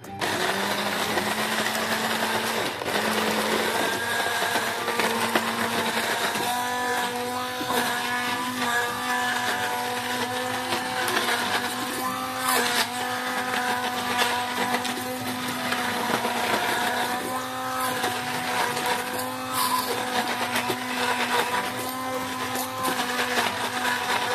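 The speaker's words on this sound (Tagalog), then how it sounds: "Gawin tayo ng hand blender." A hand blender purees food, its high whirring motor running nearly continuously and close, with pitch shifting slightly as the blade works through the mixture and brief dips in between.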